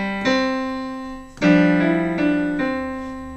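Piano playing a short passage of a beginner-level piece: two sustained chords struck a second apart, then a few more notes added, ringing clearly with no voices.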